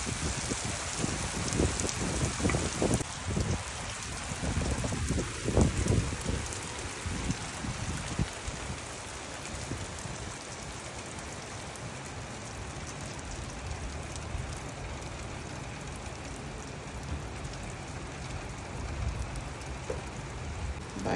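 Heavy rain pours down steadily in a continuous dense hiss, with a few louder splashes and spatters close by early on, no voices over it.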